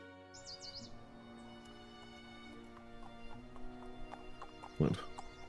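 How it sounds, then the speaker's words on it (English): Video-game horse sounds in a Minecraft roleplay: a soft steady clip-clop of hooves with a short loud snort near the end, birds chirping in the background, faint and close. "So Annika, your horse seems to be faster than mine"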